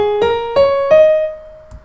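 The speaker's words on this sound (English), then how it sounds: "This right here is the major pentatonic scale." Major pentatonic scale played on a keyboard, clear separate notes stepping upward one at a time, each sustained and ringing out, the last one fading into silence.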